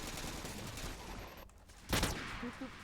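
Gunfire in the GTA video game, a dense burst of rapid shots through the first half, then a single louder crack near the end, with faint ambient noise and no clear talk.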